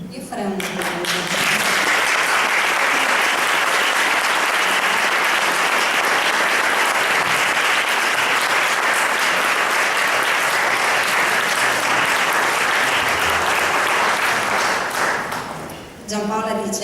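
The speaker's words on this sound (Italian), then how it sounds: "Io farei un applauso." Sustained, dense applause from a large audience at a book presentation, steady and loud for about fifteen seconds before tapering off near the end.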